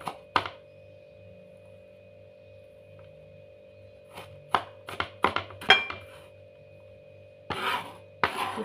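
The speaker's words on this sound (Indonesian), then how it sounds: "Cincang aja, cincang kasar ya." A knife coarsely chops food on a cutting board, sharp close thunks coming singly then in a quick burst and a couple of rougher scraping strokes, over a low steady background hum.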